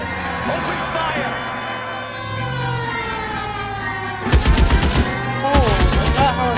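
Rapid bursts of gunfire in the video game L.A. Noire, two loud rattling volleys following a stretch of speech, with a voice continuing over the shooting.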